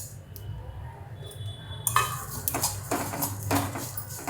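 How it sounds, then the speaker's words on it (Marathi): Coriander seeds roast in a dry kadhai, a quiet lull giving way to repeated scraping and clinking of a spatula against the metal pan with faint sizzling underneath, close and unvoiced. "कढईमध्ये टाकते धने, ते पहिले थोडे धने भाजून घ्यायचे"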